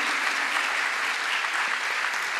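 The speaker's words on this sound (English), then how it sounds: "On the keyboards, Umar Khan, Umar Bhai, round of applause for him" Audience applause at a literature festival musical session greets a keyboard player, a short burst of steady, even clapping from a crowd.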